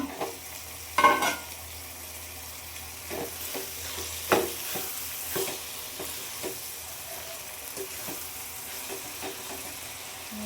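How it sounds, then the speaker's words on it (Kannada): Fish frying in a pan for a village-style fish fry, a soft continuous sizzle with scattered stirring scrapes and a louder clatter near the start, no talking. "ಇವಾಗ ಇನ್ನೊಂದು 10 ನಿಮಿಷ ಬೇಯಿಸ್ಕೊಂತೀನಿ ನಾನು. ಮೀನು ಹಾಕಿದ್ದೀನಲ್ಲ, ಬೇಯಬೇಕದು ನೋಡಿ."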